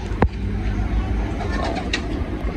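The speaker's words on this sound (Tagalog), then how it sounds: "Mga small bird lang mga kalapatids" Racing pigeons cooing softly amid background noise at a pigeon club event, with a brief flutter of wings near the start.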